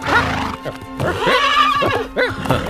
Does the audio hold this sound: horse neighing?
yes